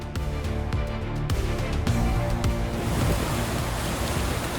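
Strong, rough ocean surf crashes and roars continuously near the shore, loud broadband wash with wind buffeting the microphone and no voices.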